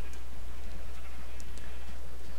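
Sheep bleating in Minecraft, a few short faint calls rising over a steady low hum, with no talking.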